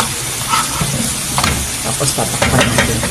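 Fat crabs going into a hot pot of oil with salt sizzle steadily, a bright frying hiss with stirring clatter, while someone speaks over the cooking.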